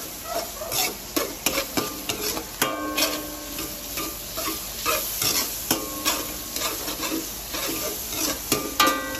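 Onions and garlic sautéing toward golden brown, loud crackling sizzle broken by frequent rhythmic spatula scrapes and clanks against the pan, up close, no voices.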